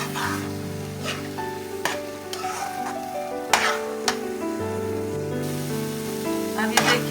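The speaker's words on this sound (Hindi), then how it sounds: "देसी घी डाल के हम इसको आप भूनेंगे थोड़ा सा।" Grated carrots roasting in desi ghee in a pan, a loud continuous sizzle with repeated sharp scrapes and clinks of a spoon stirring, no talking.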